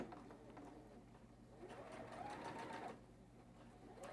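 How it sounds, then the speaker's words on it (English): A sewing machine running a quarter-inch seam edge to edge on a mini quilt, with a steady even motor hum and rapid needle chatter throughout, fairly quiet and uninterrupted. "I'm gonna hit this with a full quarter inch seam allowance, edge to edge."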